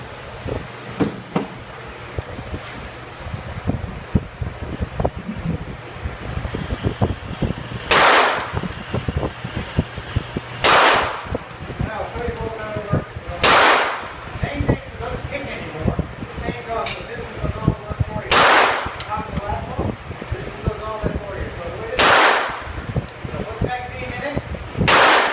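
Gunshots crack at a shooting range, six loud, sharp single reports spaced a few seconds apart over a noisy outdoor background, with people talking in between.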